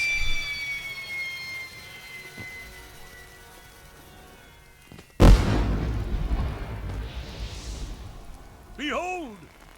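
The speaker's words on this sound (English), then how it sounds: "Let's watch the fireworks." Fireworks in The Lord of the Rings video game: a sudden loud burst at mid-clip followed by sustained crackling rumble, with earlier whistling streaks, and rising whistle-like tones near the end.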